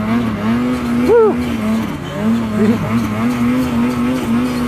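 A 2021 Ski-Doo Summit Expert 850 Turbo snowmobile runs in alpine terrain at the tree line, its steady engine drone joined by a brief rising turbo whine, with whoops and voices over the top.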